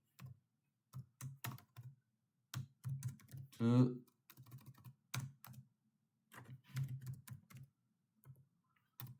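Typing on a computer keyboard in quick close bursts of soft clicks separated by pauses, with a short vocal sound partway through.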